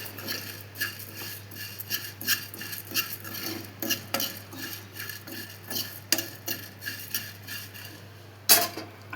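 Coriander seeds dry-roasting in a pan without oil rattle and scrape under a steady stirring rhythm, quiet, close clicks and scratches repeating throughout with one sharper clatter near the end.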